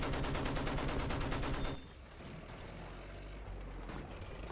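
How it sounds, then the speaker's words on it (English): Dense, loud sustained burst of battlefield gunfire in Battlefield 1 multiplayer as a flare gun goes off, the heavy rattle cutting out abruptly midway and leaving a rumbling, noisy combat backdrop. "He shot a fucking flare at me."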